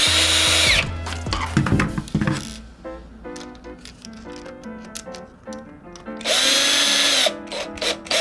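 A power screwdriver with a magnetic T8 bit whirs in short bursts as it undoes screws on an Xbox Series controller. Loud spins alternate with quieter clicks and handling noises, and no one speaks.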